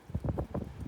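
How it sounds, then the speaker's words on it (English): Gusty wind buffets the microphone in low, rumbling surges while hiking on Balanced Rock Mesa, a series of uneven blasts over a steady outdoor hiss. "So windy today."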